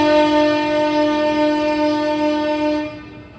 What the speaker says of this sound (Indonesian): Sekarang kereta api Bogowonto akan diberangkatkan coba.